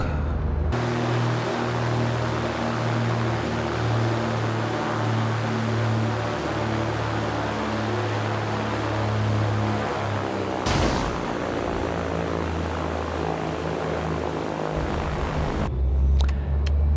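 Beechcraft Baron twin-engine plane rolling out on a runway after landing, its steady loud engine drone and wind roar filling the cabin, with a brief surge partway through before the tone drops lower.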